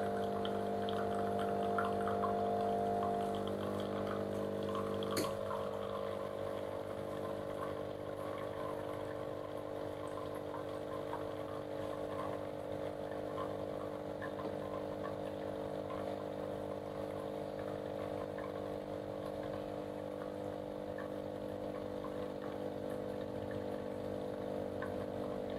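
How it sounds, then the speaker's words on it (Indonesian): Leoricco Lawrence automatic coffee machine brewing espresso: a steady mechanical hum and pump whir that runs continuously at moderate level, its pitch shifting once early on, with no talking over it. "dia seduh espressonya dulu ya"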